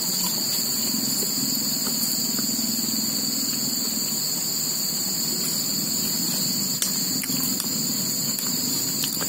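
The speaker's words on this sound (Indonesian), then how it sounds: "suara jangkrik suara manuk" Crickets chirp in a steady, continuous high-pitched drone in an oil palm plantation, joined by a few brief clicks over a faint low rumble outdoors.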